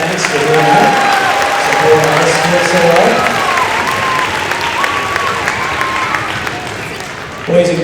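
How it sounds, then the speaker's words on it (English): School audience of children applauding in a gym or hall, loud and sustained clapping with cheering voices mixed in, slowly tapering before a voice cuts in at the end. "Let's give her a round of applause and thanks for doing that."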